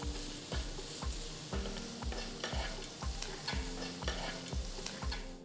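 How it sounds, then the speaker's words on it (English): A spoon stirs a tempering with coriander leaves, salt and hing in a pan, giving repeated rhythmic scraping strokes about twice a second over a steady background sizzle of frying. "Now add a handful of coriander leaves and mix well."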